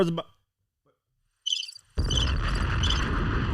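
Cricket chirping sound effect played by mistake in a podcast, a steady loud chorus of chirps filling the second half after a brief chirping burst and near silence.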